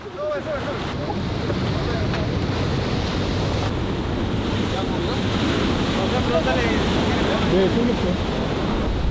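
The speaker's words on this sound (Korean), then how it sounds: "파도가 점점 거칠어져서 오늘은 더 이상 조업하기 어려울 것 같습니다." Rough ocean surf pounds a cliff base in Peru where fishermen work, a steady, loud, broadband roar of breaking waves and wind buffeting the microphone, continuous throughout.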